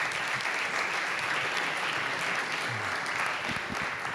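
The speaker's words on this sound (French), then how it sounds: "Vous pouvez les applaudir encore une fois." Steady applause from a conference audience at a plenary session, even, continuous clapping that fills the room for a few seconds with a few low thumps near the end.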